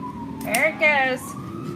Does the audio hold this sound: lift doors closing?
no